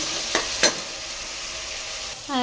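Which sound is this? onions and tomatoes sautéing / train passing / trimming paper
onions and tomatoes sautéing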